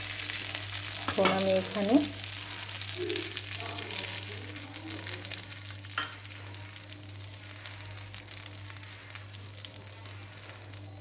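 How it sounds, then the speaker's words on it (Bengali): Whole garam masala spices crackle and fry in oil for a shrimp poppy-seed curry, a light sizzle with a few stirring clatters early on, while a person talks briefly over it. "আমি গোটা গরম মশলা ফোড়নে দিয়ে দিচ্ছি।"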